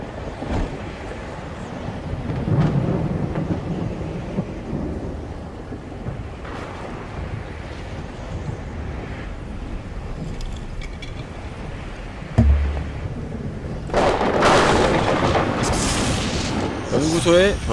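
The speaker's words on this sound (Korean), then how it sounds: "바로 천둥벼락 쳐버리기" A thunder and lightning strike hits a laboratory in the retro game Another World, a loud crack and rumbling boom bursting out after a stretch of low droning noise.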